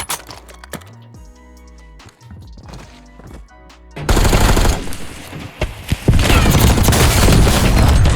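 Warzone video game gunfire erupts after a quieter musical start, turning into loud, dense automatic bursts and sharp cracks that keep going to the end.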